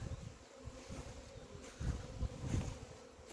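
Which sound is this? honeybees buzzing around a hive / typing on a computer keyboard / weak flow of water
honeybees buzzing around a hive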